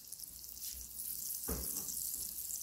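Vegan gyoza fry in olive oil in a pan over medium-high heat, giving a steady, faint hiss of sizzling with a brief louder surge partway through.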